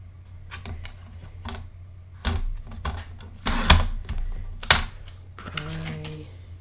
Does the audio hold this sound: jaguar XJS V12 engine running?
no